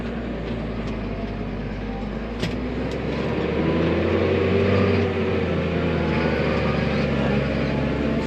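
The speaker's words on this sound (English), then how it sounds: "driving this tractor home" Engine of a corn-planting tractor being driven home late at night in Canada, a steady loud low rumble and drone that swells slightly midway and runs on without a break.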